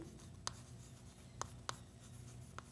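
Chalk or marker writing on a board during an arithmetic lesson: a few sharp, separate taps and strokes spread over a quiet stretch, faint and close, with no voice over them.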